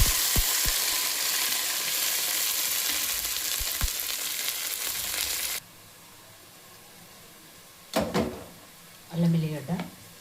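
Onions fry in oil while a mutton and tomato curry is being made. A bright, steady sizzle runs for about five seconds and then cuts off, followed by near silence and a couple of short bursts of speech.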